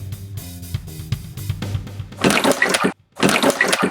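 Water cooler dispenses water into a cup in two splashing bursts with a short gap between, preceded by a low humming intro, close and clear.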